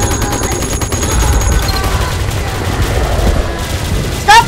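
Gunfire rattles through a Roblox battle against giant shield-bearing attackers, with rapid, dense bursts of shots heard up close, alongside a sharp effect near the end.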